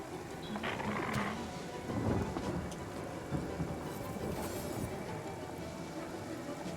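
Steady rain with rumbling thunder in a video game, a broad continuous wash with a few louder rolls, fairly loud and alone with no voices.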